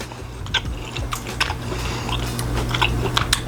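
Close, crunchy bites and chewing on a pan-cooked pork chop with apples and onions in a brandy cream sauce, several crisp bursts over a low steady hum, with no talking.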